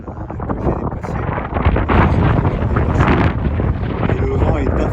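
Strong mountain wind buffets the microphone on the Pyrenean pilgrim path from Saint-Jean-Pied-de-Port to Roncevaux above 1000 metres, a loud, continuous roaring rumble that swells and gusts throughout.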